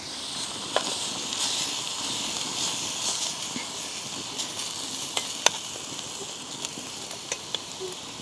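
Food fries in a pan on a wood-fired Bushcraft Essentials Bushbox XL stove. A soft, steady sizzle hisses throughout, broken by occasional small pops and crackles, fairly quiet and close.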